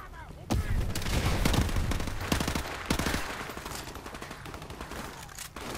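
Rapid bursts of close gunfire in Call of Duty Modern Warfare Remastered, dense volleys with sharp cracks over a rumbling low end, continuing steadily before tapering near the end.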